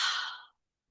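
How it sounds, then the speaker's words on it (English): A single open-mouthed exhale, like fogging a mirror, sounds as a soft breathy hiss lasting about half a second and fading out into silence, close and fairly quiet. "open up your mouth and exhale like you're fogging up a mirror or a window"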